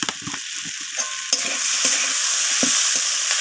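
A spoon scrapes and stirs kohlrabi and flat beans frying in rohu fish oil after salt goes in, with repeated clacks against the pan over a steady, close sizzle and no voices.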